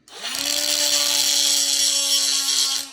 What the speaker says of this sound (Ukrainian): який ви можете використати в домашніх умовах для перевірки даних штук, це болгарка